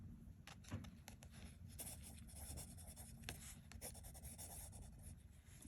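A pen scratching out the year on a hand-painted note card, with quick, close, light strokes and small taps in an irregular rhythm against faint room noise.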